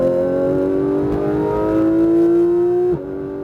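A Porsche 911 GT3 RS (991) engine on a Speed Vegas track lap, loud and close, holds a steady high-revving whine that climbs slowly in pitch before dropping abruptly near the end.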